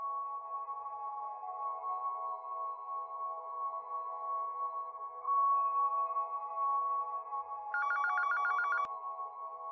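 A telephone rings steadily through the whole stretch as a call is placed, a continuous electronic ringing tone that swells louder near the end with a brighter buzzing burst before a sharp click.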